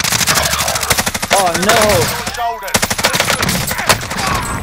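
Rapid automatic gunfire in a battle royale video game, loud bursts of repeated shots with a brief pause midway, while players talk and react over the shooting.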